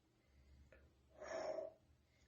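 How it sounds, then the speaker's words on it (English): A sniff at a glass of 2023 Dönnhoff Estate Riesling Trocken, one faint, short, breathy inhale close to the mic after a slight swirl, otherwise near silence. "Let's give the wine a swirl and a sniff."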